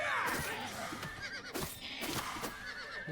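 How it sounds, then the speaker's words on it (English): Horses neigh and whinny in the video game Oblivion Remastered, several shrill calls rising and falling at moderate loudness, with faint hoof clip-clop mixed in and no talking. "What's wrong with these horses? Where are they coming from?"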